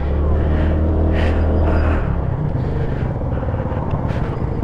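A low, steady engine drone from an Easyride 150fi touring maxi scooter, heard close while riding. It holds loud and continuous with a faint shift partway through.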